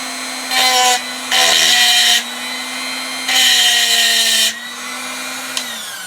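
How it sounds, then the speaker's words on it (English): A Dremel rotary tool fitted with a round sanding head grinds down a rivet on an AK-47 underfolder stock, with two long, loud high-pitched grinding bursts over the steady whine of the idling motor, close up. "And here, I'm just going to use a round head sander."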